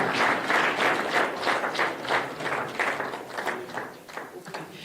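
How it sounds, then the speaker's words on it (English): Audience clapping in a standing ovation for a bishop returning to his seat at a civil society leadership event, dense sustained applause with rhythmic surges that dips briefly near the end. "with a standing ovation, can we appreciate the bishop as he goes back to his seat?"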